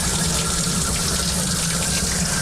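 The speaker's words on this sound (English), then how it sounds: "The sound in the Python changes a little bit when it's sucking air and it's not sucking water." Steady, close rushing of water drawn through an aquarium Python siphon hose while a fish-room tank drains, running continuously at an even level without pauses and with no talk.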